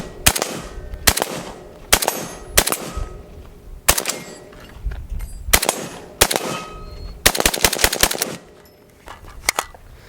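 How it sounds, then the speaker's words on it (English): A Century Arms RAS-47 AK rifle fires in quick bursts and single sharp cracks, loud and close, with several clusters of rapid shots separated by short pauses. "We can shoot a little bit more spiritedly."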